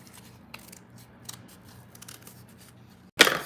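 Scissors snip through paper while a flag is cut out for a junk journal: a quiet stretch of light paper rustling, then one short, loud, crisp cut right at the end.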